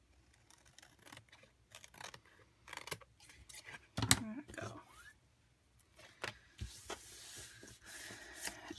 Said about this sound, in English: flip it over and then just trim off your edges